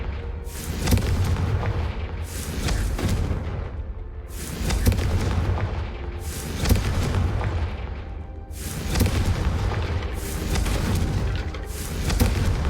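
Confringo fire spell blasts from the game Hogwarts Legacy go off again and again as loud, booming explosions, roughly seven blasts spaced a second or two apart, each decaying into a rumbling tail.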